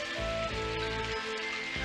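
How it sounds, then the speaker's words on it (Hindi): Rain falls steadily on a surface in a cartoon scene, a dense continuous hiss with patter, close and fairly loud throughout, with faint tonal music beneath. "बारिश शुरू हो गई।"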